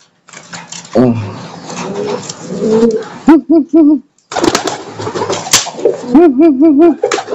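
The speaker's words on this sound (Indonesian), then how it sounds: "Merpati ini giring teman-teman" A pigeon coos repeatedly up close while driving its mate ahead of egg-laying, giving bursts of rolling, rhythmic coos with brief wing or body slaps between them.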